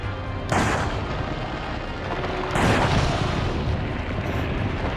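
Two heavy gunshot blasts about two seconds apart in Resident Evil 4, loud and booming with broad noisy tails, over a constant rumbling background.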